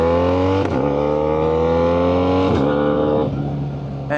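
A BMW R1300GS motorcycle with a Black Widow exhaust pulls hard on the road, its loud, close engine note climbing steadily and dipping at two quick gear changes.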